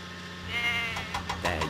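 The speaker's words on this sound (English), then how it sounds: "Salty must deliver the goats to Farmer McCall's farm." Goats bleat in a Thomas & Friends video game, a few short synthetic bleats arriving in quick succession over a steady low game hum, clear and close.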